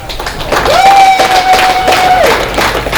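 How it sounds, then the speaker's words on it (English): A round of applause at a football league awards ceremony, a loud continuous wash of clapping and crowd noise over about three seconds, with a sustained electronic tone running through the middle. "give them a round of applause"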